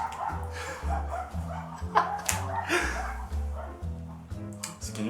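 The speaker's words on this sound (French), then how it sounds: "Ce qui est nul, c'est les bruits de chiens." Dog barks and yips used as sound effects in a French rap album track, repeated over a heavy rhythmic bass beat with other music layered on top.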